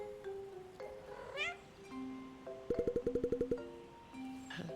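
Game-character cat meows from Cat Quest 2, a few rising mews over soft synthesized music and chiming effects, moderately loud in the mix.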